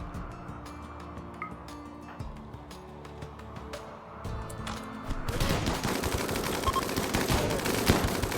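RimWorld gunfire, sparse ticking shots at first, then a dense rapid rattle of many guns firing at once that fills the second half.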